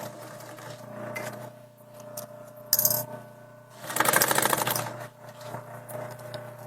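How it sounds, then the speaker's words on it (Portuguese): A sewing machine stitching along the edge of a bag to hold a zipper in place, a steady mechanical whir with a louder burst of rapid stitching near the end, close and clear with no talk. "Vou fazer uma costurinha bem na beiradinha. Só para prender esse zíper aqui"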